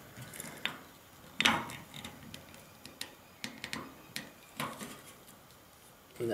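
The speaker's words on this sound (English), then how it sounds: "It's like a ratchet sort of system. And it'll click, and there's the rivet." A hand rivet tool ratchets with sharp, irregular mechanical clicks and a few louder snaps, close and fairly quiet, while a case mod is assembled.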